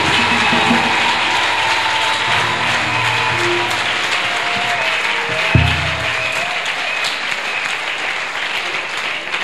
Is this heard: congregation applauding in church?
yes